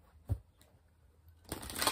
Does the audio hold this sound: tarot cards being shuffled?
yes